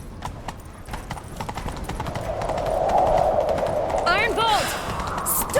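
Horse galloping in The Witcher 3 video game, steady rapid hoofbeats drumming throughout under a game soundtrack, with rising noise and brief swooping effects toward the end.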